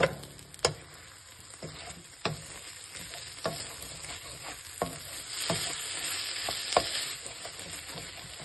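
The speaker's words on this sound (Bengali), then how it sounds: "আমার সবজি এখন একদম রেডি, পুরো ভাজা ভাজা হয়ে গেছে।" Vegetables for bisibele bath fry and sizzle steadily in a pan while a utensil stirs them, with sharp scraping clicks at irregular intervals over a continuous close hiss.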